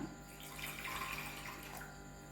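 Water runs steadily into a dried anchovy fish curry mixture being prepared by hand, a close, continuous gushing pour lasting a couple of seconds.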